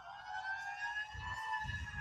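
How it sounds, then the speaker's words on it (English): An old police car's siren sounds faintly from a distance on a Hawaii beachside road, a steady wailing tone with low traffic rumble underneath. "That one has the siren."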